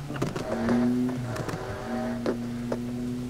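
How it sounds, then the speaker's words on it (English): Honda Civic FK2 engine revving in Need for Speed Heat, a buzzy tonal engine note climbing and settling in pitch, broken by short sharp clicks or shift pops, fairly close. "Your car sounds fucking insane"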